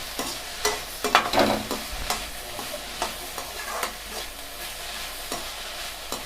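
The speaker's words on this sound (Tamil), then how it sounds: "இந்த மாதிரி ஃப்ரை பண்ணிடுங்க." Carrot, capsicum and peas fry in a pan with a pinch of salt for white pasta, giving a soft steady sizzle broken by several stirring scrapes near the start, close and moderately quiet with no talk.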